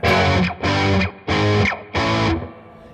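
Four sustained, heavily overdriven electric guitar chords through a Boss Katana Artist Gen 3 amp on its lead channel, each ringing about half a second with brief gaps between, followed by a fading tail.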